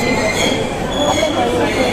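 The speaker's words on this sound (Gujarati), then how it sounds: "જો મિત્રો, તો એક ટ્રેન જઈ રહી છે." A train rolls past at a station on the route from Surat toward Vadtal, a continuous close, loud rumble with wheel squeal and broadband rail noise, steady throughout.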